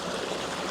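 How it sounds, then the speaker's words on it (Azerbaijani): A natural irrigation channel flows steadily close by, a dense continuous rushing and gurgling of water with no other sounds. "Buradan təbii arx axır"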